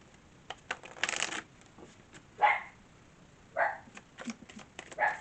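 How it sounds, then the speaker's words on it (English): Several short, sharp dog barks sound at uneven intervals, fairly close, with brief clicks and shuffling between them. "I had somebody barking in the background."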